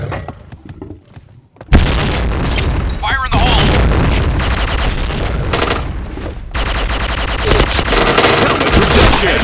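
Rapid gunfire from the Lion weapon in a shooter video game, loud bursts of shots and booming impacts hammering almost without pause after a short quiet opening.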